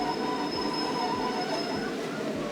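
A British Rail Class 150 diesel train on the Marston Vale Line rumbles steadily from onboard, with continuous wheel and engine noise and a faint high whine.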